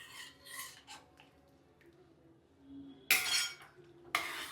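Spoon stirring roasted semolina with jaggery in a pan for a bansi rava sweet: quiet, soft scraping, then two sharper scrapes of metal on the pan near the end.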